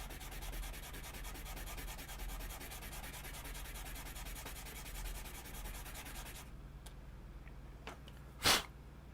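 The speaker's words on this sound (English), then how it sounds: "let's now switch this over to the 400 sanding block here" Hand sanding with a 400-grit sanding block on a model kit part: a quiet, continuous rhythmic rubbing scrape that eases off near the end, followed by a brief louder rustle, with no talk.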